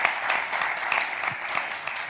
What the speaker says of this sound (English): Round of applause for Moja.